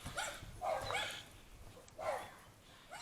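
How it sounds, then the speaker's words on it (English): Several dogs bark down the road in short bursts of two or three barks separated by brief pauses, fairly faint and distant, with no talk. "the dogs are going nuts"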